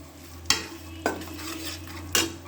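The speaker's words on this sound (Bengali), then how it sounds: "এখন দিয়ে এগুলো একটু ভেজে নেব আমি" Turmeric and chili powder frying in oil for a coriander-leaf pickle, stirred with a utensil: three sharp scraping strokes against the pan over a steady low sizzle, close and fairly quiet, no talk.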